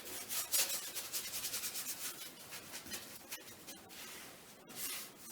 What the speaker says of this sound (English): I can rub some of the wax off and then I'll just start working this flat.